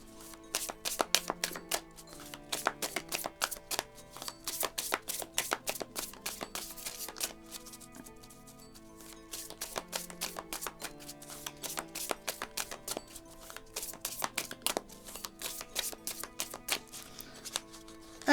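Tarot cards are gathered and covered in a long series of quick, close taps and shuffling clicks. The rhythm is irregular, dense in spurts, with faint music-like tones underneath.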